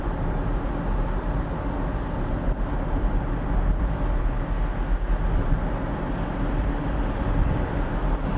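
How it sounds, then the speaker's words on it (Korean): Steady road and wind roar inside a Kia EV3 Air cruising at about 80 km/h with single-pane glass, a dense continuous low rumble with airy hiss above, even and unbroken throughout. "자, 현재 지금 시속 80km 정도로 주행 중이고요"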